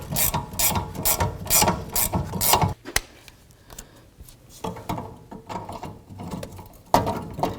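A hand ratchet loosens the bottom nut on the gas tank shield of a 1984-2001 Jeep Cherokee, sounding as rapid clicking bursts separated by short pauses and a brief quiet stretch, close and fairly clear.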